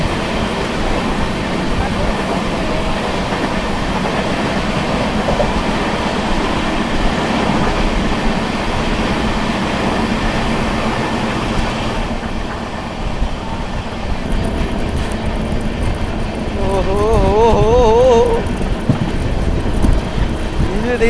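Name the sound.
Garib Rath Express passenger train passing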